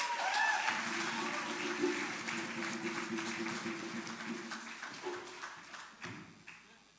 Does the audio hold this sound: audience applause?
yes